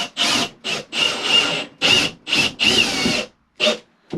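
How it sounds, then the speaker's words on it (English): A power drill drives self-tapping screws through plywood while an RV is being modified. Loud, close whirring bursts stop and start in a choppy rhythm of about eight pulls, and each burst carries the grind of the screw biting into the wood. "Now using his other drill, he's using a self-tapper."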